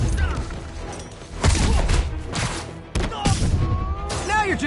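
Gunfire in Marvel's Spider-Man arrives as bursts of sharp shots and impacts over a busy game soundtrack, with voices speaking between the volleys.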